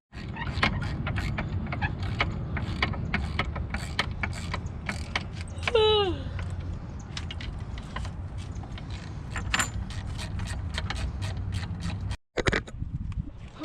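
Metallic clicks, rattles and scrapes from a MerCruiser stern drive shift mechanism being worked by hand into forward gear, repeated close-up clatter over a steady background hum, with a brief squeal in the middle.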